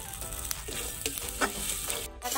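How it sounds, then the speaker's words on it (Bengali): Spice paste of cumin and chili powder sizzles in hot oil in a pan for a fish curry, a continuous close frying hiss with a few stirring scrapes. "মশলাটাকে আমি একটু কষিয়ে দেবো।"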